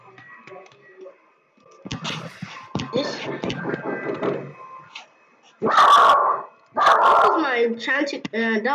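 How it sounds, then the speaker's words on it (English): A pet dog barks a few times indoors during a Minecraft play session, short loud yaps that come after a stretch of quiet movement noise. "That was my dog barking."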